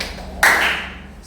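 A class of seventh-grade students claps once in unison during a classroom focus game, a single sharp collective clap that rings briefly and fades into a quiet room.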